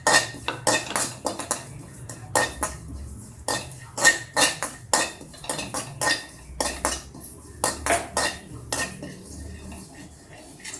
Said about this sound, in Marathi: थोडा ओवा पण नाही का गरम करून घेऊया